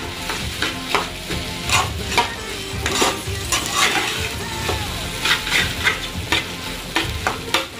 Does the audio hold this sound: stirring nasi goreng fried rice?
yes